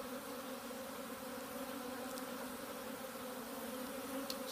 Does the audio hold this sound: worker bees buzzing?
yes